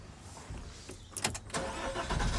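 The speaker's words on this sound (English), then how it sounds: "Right, let's get it started again." Iveco Daily 2.3D HPI double cab tipper engine cranking and catching, a few quick starter bursts giving way to a rough diesel idle, close by.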